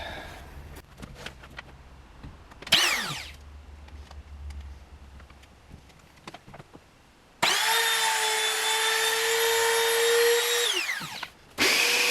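A power router cuts the truss rod channel into a wooden guitar neck: a short whine-up early, scattered scraping and clicks, then a loud sustained high routing whine for several seconds that winds down, starting again briefly at the end.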